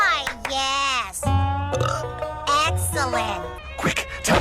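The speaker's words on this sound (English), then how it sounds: "Burp." A cartoon alien lets out long, voiced burps after a meal, loud and close, mixed with animated character speech and grunting vocal sounds.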